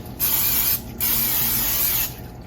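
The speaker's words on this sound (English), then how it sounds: "I just sprayed that with some canola oil cooking spray" Two bursts of canola oil cooking spray hiss into a 9x9 pan, close and steady, each lasting about a second with a short pause between them.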